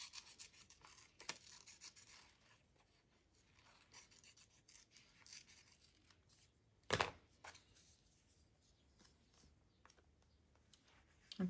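Paper being cut out of an envelope journal with scissors, soft faint scraping and rustling strokes close by, broken by one sharp louder snip or clack partway through, with no talking.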